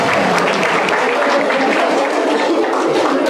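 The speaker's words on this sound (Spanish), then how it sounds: "Le damos primero su aplauso" A room full of people applauds during an interactive lecture on grief in couples, a loud, continuous wash of clapping with faint crowd murmur and no pauses.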